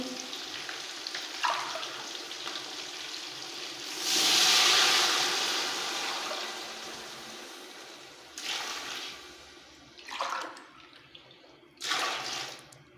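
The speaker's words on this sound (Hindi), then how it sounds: "अब हम इसके अंदर 3 गिलास पानी डालेंगे।" Water pours steadily into a pot of rice for chicken pulao in one long stream, followed by a few short splashing pours, fairly close.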